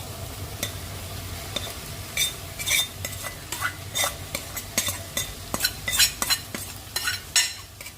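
Raw fresh canal prawns tumble into hot oil in a pan for an egg prawn curry, sizzling and frying steadily while a utensil stirs with repeated scraping clicks and clatters, close and fairly loud, no talking.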